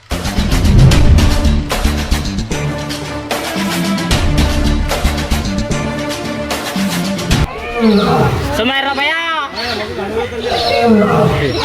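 A lazy lion roars loudly and repeatedly in deep, rolling growls, layered over a dense, busy background that continues throughout.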